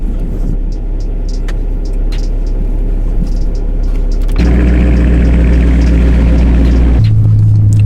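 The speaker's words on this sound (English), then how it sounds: "I'm driving the Challenger to the shop real quick." A Dodge Challenger R/T on a cold morning, engine not yet warmed up, drives with a steady loud cabin rumble of road and engine noise that swells and deepens midway, then shifts lower near the end.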